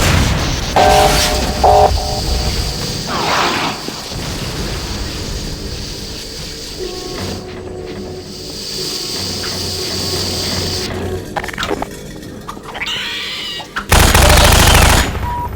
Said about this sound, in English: the player gets to use physics to jam the gun's mechanism and cause it to break